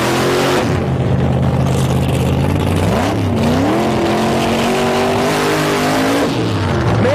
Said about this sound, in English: let's watch these cars in the dry burnout